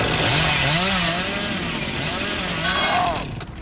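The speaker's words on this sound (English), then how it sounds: "Oh, that was a bad chainsaw." A video game chainsaw revs loudly with a wavering, rising and falling engine whine, throttling up again near the end before tailing off.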